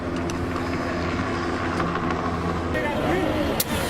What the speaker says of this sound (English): Helicopters showed up flying up overhead.